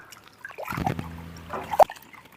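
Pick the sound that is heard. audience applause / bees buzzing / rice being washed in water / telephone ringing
rice being washed in water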